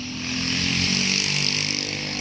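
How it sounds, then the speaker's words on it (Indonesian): A motorcycle used for harvesting runs nearby with a steady, droning engine note that holds evenly throughout, moderately loud and alone. "Itu lagi ada motor untuk manen ya teman-teman"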